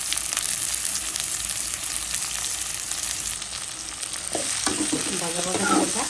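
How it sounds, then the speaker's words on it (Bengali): Onions with salt frying in leftover fish-frying oil, a continuous close crackling sizzle with stirring scrapes toward the end, no talk. "ভাজা ভাজা ভাজা।"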